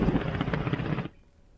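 A helicopter flying an army search operation for militants gives a loud, dense rotor thudding that cuts off abruptly after about a second, leaving faint background noise.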